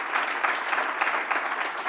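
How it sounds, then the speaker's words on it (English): A keynote audience at the USIBC India Ideas Summit breaks into steady applause, a dense wash of many clapping hands, loud and continuous from start to finish. "So give him a round of applause and thank him for the great work that he has done."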